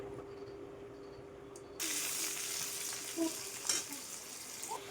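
Chopped onions and green chillies fry in a pan with a sudden rush of sizzle that starts partway through, staying steady with a few small pops and clatters.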